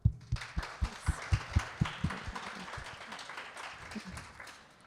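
Audience at a conference applauding to welcome a speaker, starting with sharp, rhythmic claps and thinning into softer, scattered clapping that fades over several seconds.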